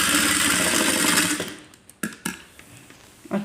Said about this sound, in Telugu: చూడండి ఇటు సైడ్ కూడా మనం ఇలా స్టిచ్చింగ్ చేసుకుంటూ రావాలి.